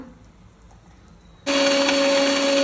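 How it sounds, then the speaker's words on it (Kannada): A mixer grinder grinding fried spices for donne biryani switches on abruptly after a quiet moment, then holds a loud, steady, high-pitched whirring drone to the end. "ಇದು ಮಿಕ್ಸಿಗೆ ಹಾಕ್ಕೊಂಡು ಗ್ರೈಂಡ್ ಮಾಡ್ಕೊತೀನೆಲ್ಲ"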